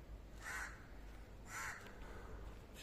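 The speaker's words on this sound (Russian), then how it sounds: "Не каркайте вы надо мной." Crows caw outdoors near a hotel, two distinct, fairly distant calls about a second apart over faint steady background noise.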